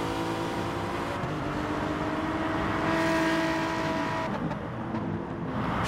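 Racing cars run on a circuit during a DREC race, a Lexus among them trailing smoke from its rear. A steady, loud engine drone fills the whole stretch, swelling slightly in the middle as cars pass.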